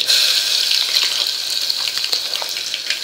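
Ground spice paste added to hot oil with mustard seeds and cumin for a bottle gourd and chana dal sabzi, sizzling loudly and steadily with fine crackles throughout.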